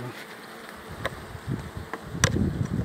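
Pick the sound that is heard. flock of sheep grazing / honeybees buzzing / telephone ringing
honeybees buzzing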